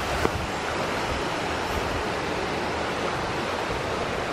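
A small stream flows beside a trail, giving a steady, close, broadband rushing of water with no talking.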